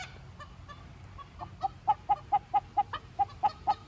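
Hens cluck in a quiet, regular series of about ten short calls that start partway through, over a low background hum, fairly near and with no voices.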